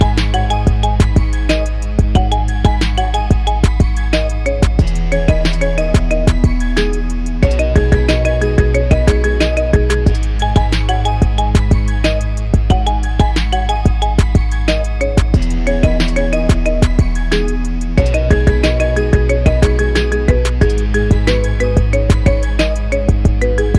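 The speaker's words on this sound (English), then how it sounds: "Get this cool ringtone for your phone now." A marimba remix plays as a phone ringtone, with bright mallet notes in a steady, looping rhythm. It is loud and continuous throughout, with no voices.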